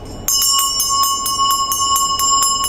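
A handheld bell used in meditation practice rings in quick, even repeated strikes, a bright, sustained metallic tone with high shimmering overtones, close and fairly loud, with no talking.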